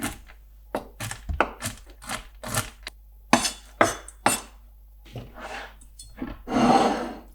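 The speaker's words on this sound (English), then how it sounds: "You can add them as a whole or just slightly chop them up." Almonds are roughly chopped with a knife, giving a string of sharp, close knocks in irregular bursts, with a few quick taps and a longer scraping sweep near the end.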